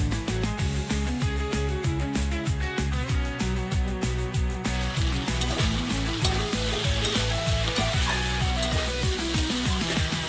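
Crab vituli cooking in a pan with a little water gives a loud, steady sizzle and bubbling with repeated stirring scrapes throughout, and no voices.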